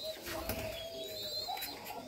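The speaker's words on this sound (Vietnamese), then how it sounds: "Chim bên này là đa số là chim non nên em chăn rất là đơn giản thôi" Young pigeons on a farm coo softly in a few short, repeated calls, faint and somewhat distant against a quiet background.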